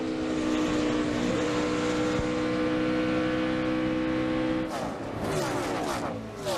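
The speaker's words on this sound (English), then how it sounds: "Yeah, that car doesn't sound too good." Stock car down on power during a NASCAR Busch Series race, its engine droning loudly and steadily with harmonic whine, then a shift in pitch and rising crowd-like noise near the end.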